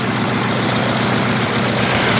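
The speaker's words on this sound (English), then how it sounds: "It's powered with a Pratt & Whitney 450 horsepower engine." A loud, steady engine drone from a biplane's 450 horsepower Pratt & Whitney radial engine, close by and constant throughout, with a throaty low rumble and no voices.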